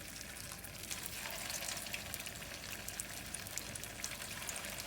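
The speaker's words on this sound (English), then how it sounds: "I'm going to add one patties to this for frying." Potato patties frying in hot oil, a steady dense sizzle with crackling pops that holds at an even level throughout, close up and with no voices.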